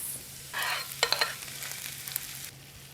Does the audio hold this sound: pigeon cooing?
no